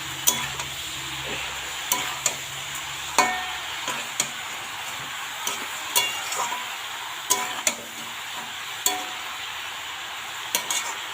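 Bottle gourd curry seasoned with turmeric is stirred in a pan, with a spoon scraping in regular strokes about once a second over a steady, close sizzle.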